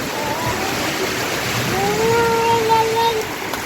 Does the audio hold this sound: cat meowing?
no